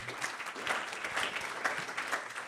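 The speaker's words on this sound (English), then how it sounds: "A little round of applause for that." Audience applause at a talk with a serial founder, fairly faint and a little distant, a steady patter of clapping that swells slightly in waves over a couple of seconds.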